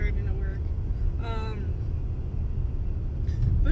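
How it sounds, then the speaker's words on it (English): A car drives in the dark with a low, steady interior road rumble, while a voice talks over it. "I'm driving to work"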